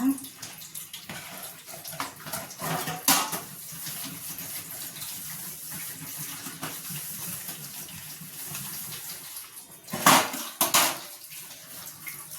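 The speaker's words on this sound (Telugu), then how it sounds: "గిన్నెలు తోముకుందాం. గిన్నెలు తోమేస్తున్నా." Running water splashes steadily with clinks and scrubbing of dishes washed by hand in a home kitchen, a couple of louder splashes near the end, with a voice talking faintly in the background.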